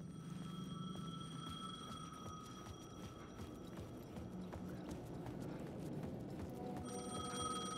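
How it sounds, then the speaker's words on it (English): A payphone rings with a sustained metallic tone over a low ambient drone in Alan Wake 2, with a second ring near the end and scattered faint knocks in the background. "The payphone was ringing."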